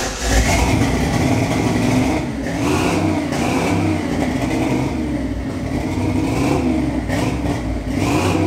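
A car engine revs loud and close, its steady roar rising and falling in pitch across several seconds with no voices over it.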